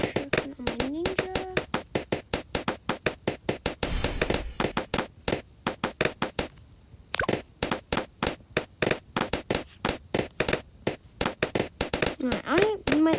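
Balloons popping in the Bloons TD 6 tower defense game, a rapid, steady barrage of sharp loud pops in quick rhythm, briefly broken by a short whooshing effect.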